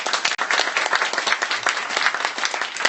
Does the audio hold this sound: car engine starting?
no